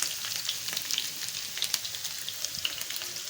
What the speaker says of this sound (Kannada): ಅಲ್ಲಿ ಆಲೂಗಡ್ಡೆ ಎಲ್ಲ ನೀಟಾಗಿ ಸಿಮ್ಮುರಿಯಲ್ಲಿ ಬೇಯ್ತಾ ಇದೆ